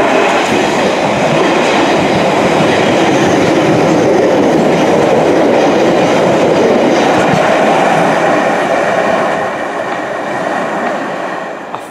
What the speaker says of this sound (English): Finally seen that 1962 tube stock train now passing through East Acton tube station.